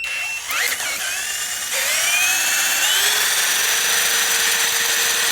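A homemade wind generator built from a treadmill motor whines at high revs, a loud continuous mechanical drone that steps up in pitch and then holds steady.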